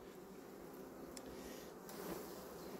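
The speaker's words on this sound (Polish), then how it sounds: "Patrzcie jak pszczoły wiszą" Honeybees hum softly on a frame from a hive during a forest nectar flow, a faint, steady buzzing swarm with no speech.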